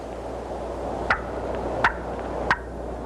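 A hunter's call imitating wild turkey cutting gives three sharp, short clucks spaced under a second apart, loud and close over a quiet outdoor background, with no talking.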